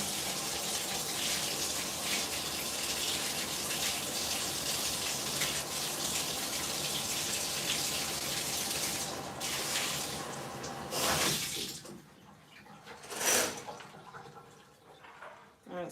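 Hot water running from a tap into a cup, a steady broad rushing stream that stops near the end, followed by a few faint drips and small clinks.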